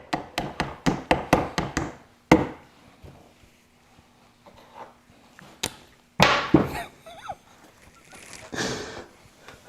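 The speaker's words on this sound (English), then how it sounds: "I'm going to hammer that back in" Forend peg being hammered back into an automatic hunting shotgun, a quick run of sharp metallic taps followed by a few isolated louder knocks and handling clatter, with faint background murmur.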